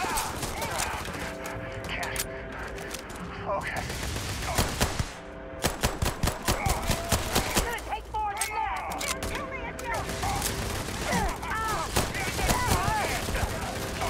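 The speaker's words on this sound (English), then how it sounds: "Who's shooting at me?" Rapid bursts of gunfire in the sci-fi video game Starfield, dense volleys and sharp shots rattling through the middle stretch, mixed with game sounds and a voice talking over it.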